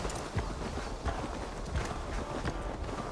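Rhythmic clip-clop of horse hooves trotting at a steady pace in the video game Assassin's Creed Valhalla, fairly close, over a soft background rumble with no speech.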